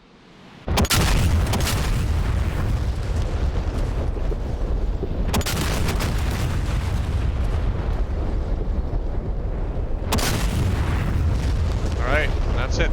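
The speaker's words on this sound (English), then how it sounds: "And here comes the shells." Artillery shells slamming into an infantry platoon's position in a video game, three heavy blasts spaced several seconds apart, each followed by a long rumbling roar, with a voice talking over it.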